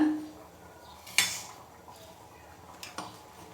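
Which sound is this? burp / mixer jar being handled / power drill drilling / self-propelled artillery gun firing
mixer jar being handled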